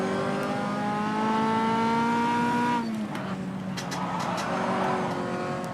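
An MCR Sport 2000 race car in rFactor 2 at the Guaporé circuit revs high and climbs steadily, then shifts gear and pulls on, loud, close and continuous.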